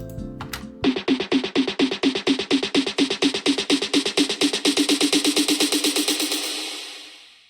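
An EDM buildup snare roll with a reverb tail under an automated high-pass filter, evenly spaced snare hits that speed up and grow thinner and brighter, ending in a decaying wash, loud and without voices.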